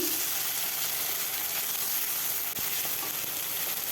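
Chopped tomato frying in a pan for a pomfret curry with mustard and poppy seed, giving a steady, even sizzle with a faint bump partway through and no talking.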